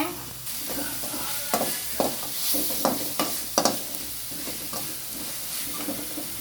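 Onions and tomatoes sautéing in a pan, a continuous close sizzle broken by sharp stirring scrapes and knocks of a utensil at irregular intervals.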